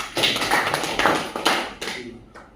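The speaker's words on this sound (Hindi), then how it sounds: "एक बार जोरदार तालियां दीजिए।" An audience at an RCM team counselling session claps in a short, dense burst of applause that thins out and fades within a few seconds.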